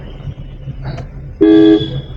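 A single car horn blast, loud and close, holding steady for under half a second against low road rumble.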